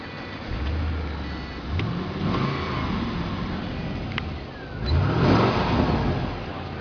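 A 2005 Pontiac GTO with a 6.0 V8 Corvette engine and automatic transmission revs twice, the engine rising in pitch, settling back, then climbing again in a second loud, close rev.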